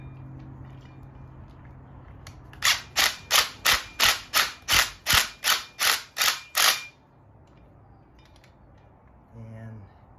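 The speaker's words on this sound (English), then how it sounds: "I'm gonna get an impact real quick and tighten that." An impact wrench hammers a lock nut tight on a Harbor Freight trailer jack, a rapid run of about a dozen sharp, evenly spaced rattling blows, close and loud, followed by quiet.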